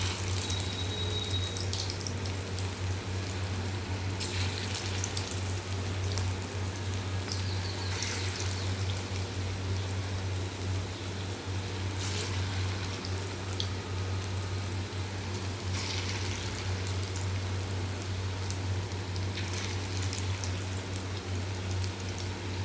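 Potato fritters (aloo bora) sizzling in hot oil in a pan, a steady crackling hiss with occasional sharper pops, moderately close and continuous with no talking.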